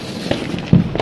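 Diwali firecrackers burst outdoors in a short crackling sequence of sharp pops, ending in one louder bang close by.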